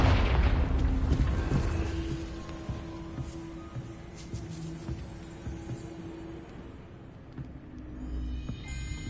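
A Confringo fire spell blasts off in Hogwarts Legacy with a loud, booming burst at the start, then fades into a low rumble and scattered crackles.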